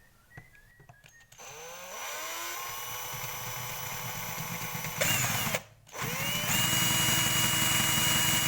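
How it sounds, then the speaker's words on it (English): A power drill with a 6mm bit runs steadily for several seconds, grinding into a metal bolt head, briefly stops, then restarts and keeps whirring loudly. "6mm drill into this head, and see if we can drill this head out"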